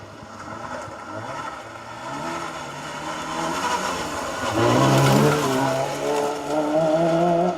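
A 2-litre Vauxhall Astra rally car driving a stage of the Roger Albert Clark Rally, engine note rising and falling as it approaches, growing louder and peaking near the end with revving and tire noise, no talk.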